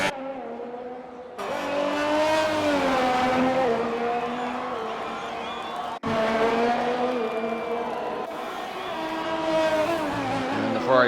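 A Ferrari race car screams past at speed on a racing circuit, its high engine note rising and falling through gear changes, with a second car following close behind and cutting in sharply.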